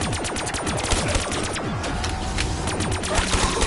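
Call of Duty zombies gameplay with sustained automatic gunfire, loud rapid shots overlapping continuously with echoing cracks and a busy game soundscape.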